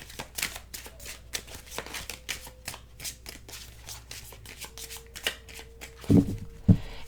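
Twin Flame Messages oracle cards being shuffled up close, a steady run of soft riffling flicks and papery slaps, ending with a couple of firmer taps as the deck is squared.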